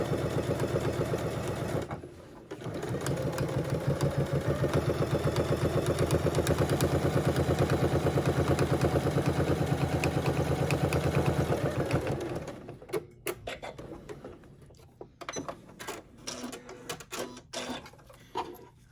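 A sewing machine topstitches along the side of a fabric makeup bag, running in a steady rapid chatter for about ten seconds, pausing briefly, then stopping into scattered clicks and handling noises.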